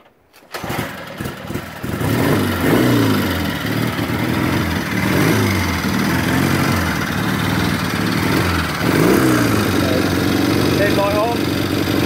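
A 1958 Velocette Valiant 200cc motorcycle engine stutters, catches after a couple of tries, then runs at a steady, loud idle nearby with slight revs, while people talk over it.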